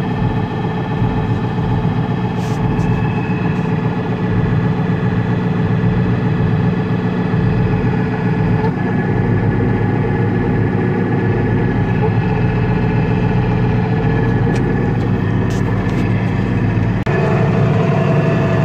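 A farm auger runs loud and close while unloading oats, a continuous mechanical engine drone with a steady hum and faint rattling, a few brief clanks near the end.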